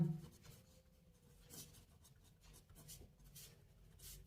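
Chalk or marker scratching across a board during a university mathematics lecture on maxima and minima, a faint, steady run of rubbing strokes with brief sharper scrapes, heard alone and fairly quiet.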